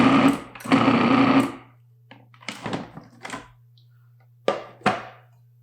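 Food processor pulsing flour, sugar and salt: two short whirring bursts up front, then a few fainter clunks and brief whirs over a low steady hum, close by and with no speech.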